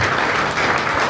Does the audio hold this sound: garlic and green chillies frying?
no